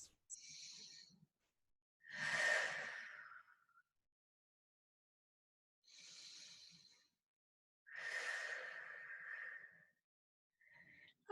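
Slow, deep breaths taken while resting in child's pose: long audible inhales and exhales alternating with silent gaps, close and soft, with no talking.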